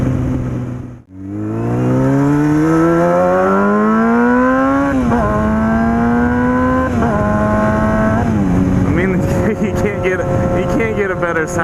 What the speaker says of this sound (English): Although it is really freaking loud. So, I mean, it's helped me get my volume of talking up because I feel like I'm talking over this exhaust.